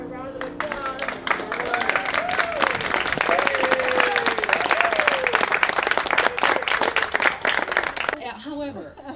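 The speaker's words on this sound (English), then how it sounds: "Let's give our mother a round of applause." An audience at a funeral service applauds with dense, sustained clapping for about eight seconds, while voices rise and fall over it; the clapping stops abruptly and a voice continues briefly.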